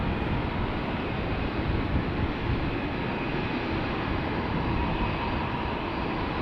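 Steady, loud roar of airliner jet engines at Amsterdam Schiphol Airport, a broad continuous rumble with no pauses, close by and unbroken across the whole stretch.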